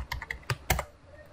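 A computer keyboard clatters in a quick burst of a few close, crisp keystrokes, then falls quiet within about a second.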